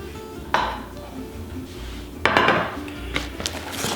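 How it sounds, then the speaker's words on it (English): Corned beef set down into a baking dish, two distinct clunks and scrapes of meat and utensils against the dish amid low kitchen rumble, close by. "we're going to put it in the baking dish just like that"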